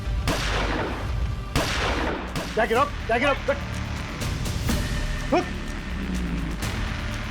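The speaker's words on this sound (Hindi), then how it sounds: "नहीं तो मैं फायर कर दूंगा" A gunshot in a Crime Patrol TV drama scene: sharp loud reports, two heard early, over a noisy indoor background where someone speaks and vocal sounds break in.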